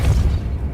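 A Repulsor spell in Hogwarts Legacy lands as a short, heavy low boom that fades quickly, loud and close.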